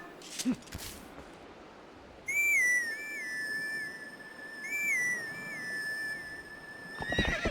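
Tonal whinnying from a horse in Zelda: Twilight Princess HD, a clear repeated call rising and falling over a quiet game backdrop, with soft thumps at the start and end.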